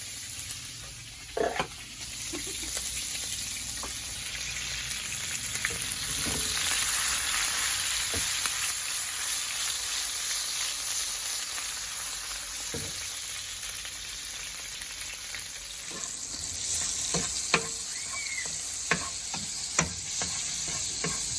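Garlic, onion and tomato sautéing in a pan, a continuous loud sizzle with scraping stirs and clatters from the spoon at irregular moments, and no talking.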